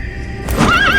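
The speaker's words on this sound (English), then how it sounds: "We're gonna need the horse." A horse in Metal Gear Solid 5 gives a loud, close whinny that rises and wavers over a second, with the clip-clop of hooves and game ambience beneath.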